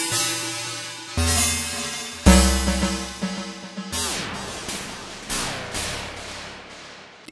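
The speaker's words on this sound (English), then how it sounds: "And the last one is different as it's a comb filter." A Bitwig Grid synth sound runs through a comb filter, giving metallic, resonant tones that shift from sustained buzzy notes into a string of bright, ringing plucked hits, moderately loud and unaccompanied by speech.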